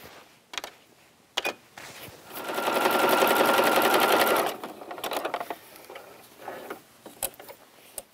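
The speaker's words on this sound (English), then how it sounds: "we are going to zigzag stitch the edge" Sewing machine zigzag stitching the edge of a pioneer-style dress: a steady, close mechanical rattle lasting about two seconds, between a few sharp clicks and handling knocks.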